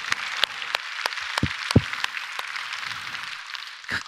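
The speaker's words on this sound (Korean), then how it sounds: "그 아버지들을 위해서 한번 박수해 주겠습니다." Scattered handclaps from a small church congregation during a Korean Sunday service, uneven and sparse, with individual claps standing out rather than forming a full ovation.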